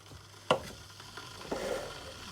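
Instant coffee granules are tipped straight from the jar into a cup without a spoon, giving a faint tap and then a soft, brief granular pour in a quiet room.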